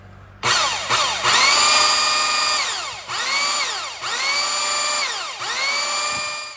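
A power drill whines through metal in several bursts, drilling dowel pin holes lubricated with WD-40 during a Magnuson supercharger install, pitch sagging under load and rising again between pushes, loud and close.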